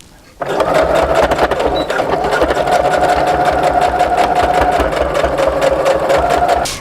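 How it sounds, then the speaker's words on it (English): A sewing machine runs steadily, stitching along the corded edge of pillow cover face fabric. It starts abruptly and keeps a fast, even mechanical whir with rapid needle ticks, close and loud, and no voices are heard. "I'm just going to follow along that stitching that I made when I put the cording onto the face fabric"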